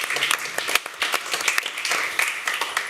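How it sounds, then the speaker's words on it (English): A conference audience applauds its speakers and panelists, with dense, steady clapping that fills the room throughout, lightly uneven in loudness, and no voices standing out. "I would like you to give a round of applause for our speakers, panelists, for their presentations"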